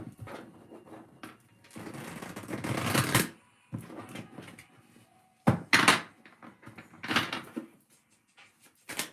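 A tarot deck shuffled by hand in several bursts of riffling, papery card noise, close and fairly loud, separated by short quiet pauses.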